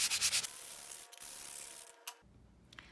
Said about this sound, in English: So you're going to sand all of your mountain pieces now so they're soft to the touch.